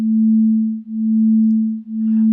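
A steady low pure tone from two sine waves, one at 20.5 Hz, that swells and fades in slow regular beats, about once per second, with no voices.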